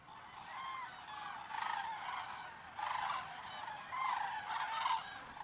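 A flock of common cranes crosses the Pyrenees valleys between Lindux and Irati in autumn, calling in repeated bugling bursts that rise and fall at moderate distance, with no voices.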